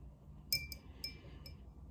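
A glass of water is handled and swapped out while painting, giving several light, bright clinks and taps in quick succession against a quiet room.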